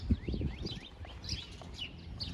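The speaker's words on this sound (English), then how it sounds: "Spring is sprung, the birds are out." Several birds sing and chirp outdoors on a spring walk through a Levittown, Long Island neighborhood, giving bright repeated calls at moderate distance, with a few soft low thumps early on.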